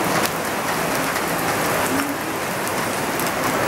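Steady heavy rain pours down on a night market, a dense continuous hiss with scattered drops striking surfaces and no voices.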